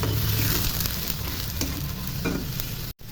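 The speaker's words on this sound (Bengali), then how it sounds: "মশলা ভাজা ভাজা হয়ে গেছে" Spices fry in a pan with a close, continuous sizzle and scraping stirs, and the sound drops out briefly near the end.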